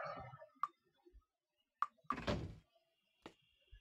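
In the game Might and Magic 6, a door opens with a short creak and a solid thunk, set among a few sharp clicks and knocks in an otherwise quiet scene.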